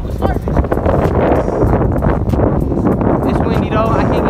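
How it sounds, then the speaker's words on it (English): Gusty wind buffets the microphone in loud, rough bursts during a motorcycle ride-out while voices talk underneath. "It's windy though."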